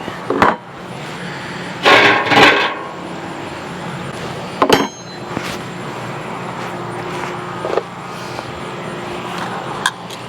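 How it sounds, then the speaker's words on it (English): A metal smoker lid is lifted off and rebar pulled aside before pork belly goes on, with scraping, clanking and knocking bursts, including a sharp metallic clang midway, over a steady outdoor hum. "So get the lid off. get the rebar out of the way."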